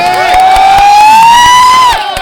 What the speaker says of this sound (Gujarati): એકવાર તાળીઓથી વધારો સાહેબ.